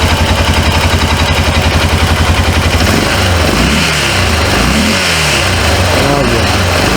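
A 2005 Honda Rincon 650 ATV with carburetor trouble cranks on an odd-sounding starter in a fast pulsing rhythm, then catches and runs, the engine rising and falling in loud revs close by.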